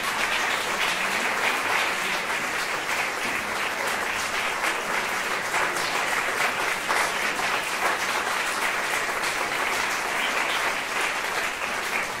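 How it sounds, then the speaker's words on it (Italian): An audience at the Teatro Antonio Belloni in Barlassina applauds without pause: a loud, dense, steady wash of many hands clapping that lasts throughout, with no voices on top. "allora io vorrei un altro grande applauso"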